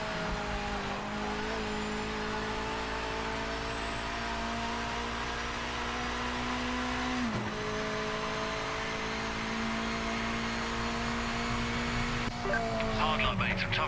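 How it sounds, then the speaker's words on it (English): A race car engine in the video game Project Motor Racing holds a high, sustained whine at high revs with brief shift dips, loud and continuous, with a voice talking over it. "I like it when the RPMs get high on this car because it sounds like it's going to blow up."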